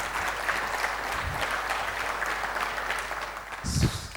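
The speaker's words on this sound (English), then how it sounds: "a special thanks and a big applause to them for the organizing team" At the close of the DevDay 2016 tech conference, the audience applauds the organizing team with a steady, moderately loud wash of clapping that swells briefly near the end.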